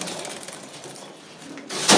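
Pigeons coo softly and steadily close by, kept by a breeder showing his birds, with a brief louder rustle or flutter right at the end.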